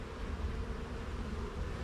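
Honeybees humming around an open hive frame in Jamaica, a low, steady, close swarm drone with no voices.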